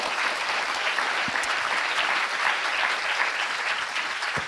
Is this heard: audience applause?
yes